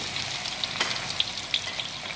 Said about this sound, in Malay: Mula-mula kita gorengkan bawang dulu ya. Goreng hingga dia garing ya